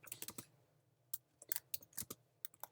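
Typing on a computer keyboard, quick irregular bursts of sharp clicks and clacks close by with brief gaps between, quiet and with no speech.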